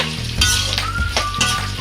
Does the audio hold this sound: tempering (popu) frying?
yes